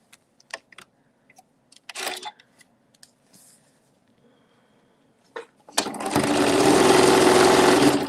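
After a few light clicks and taps, a sewing machine starts up and stitches fast and loud for the last couple of seconds, sewing folded fabric for an Easter placemat.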